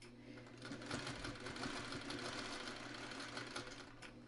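Sewing machine stitching a traditional lantern quilt block, a steady close mechanical whir with rapid needle rhythm running continuously throughout.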